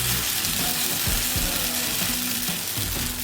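Pancake batter frying in a hot pan, a steady loud hiss and sizzle throughout with a few low knocks underneath.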